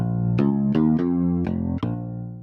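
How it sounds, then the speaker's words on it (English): Steinberg Hypersonic '80s hi-fi bass' synth preset playing a short bassline of about six plucky, bright-attack notes with rich harmonics, heard alone and up close with no talking. "I just landed on one solo preset, and that's called 80s hi-fi bass."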